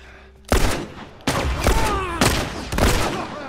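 Gunfire in The Last of Us lands as four loud, sharp shots spaced about a second apart, each one trailing off into ringing, rumbling echo over a low background hum.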